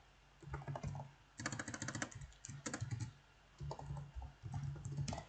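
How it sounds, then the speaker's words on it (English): Computer keyboard typing in several quick bursts of dense clicking separated by short pauses, close and clear with no talking. "so I will type the spelling of that down for you."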